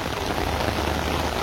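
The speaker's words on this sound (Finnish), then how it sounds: "No nyt se tuli sitten se sade." Rain falls during a ride on a long straight stretch of road, a steady broadband hiss of downpour mixed with rushing air, close and loud.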